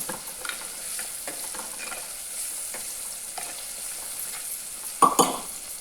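Crushed garlic frying in a pan for a homemade fish curry, with a steady soft sizzle and intermittent stirring scrapes, ending in a louder clatter of the spoon against the pan.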